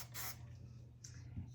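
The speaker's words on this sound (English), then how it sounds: "I'm just gonna get the flyaways up with my hairspray here" Hairspray from an aerosol can hisses onto styled hair in two short, close bursts, the first longer than the second, quiet and with no talking.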